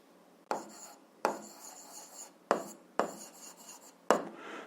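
A pen writing out an algebra equation for a word problem about milk in two cans makes a run of close scratchy strokes, each opening with a sharp tap and fading away, about five of them with quiet gaps between.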